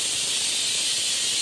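Steady broad hiss of steam from a pressure cooker whistle on the stove while kheema aloo cooks, continuous and fairly loud throughout with no voices.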